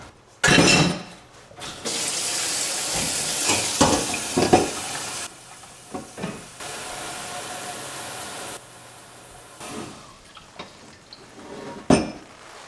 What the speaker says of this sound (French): je mis l'eau à l'intérieur du chaudron